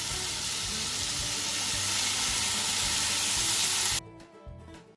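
Chicken souvlaki skewers sizzle steadily in a non-stick frying pan over a medium flame, a loud continuous fry that cuts off abruptly near the end, leaving only faint clatter.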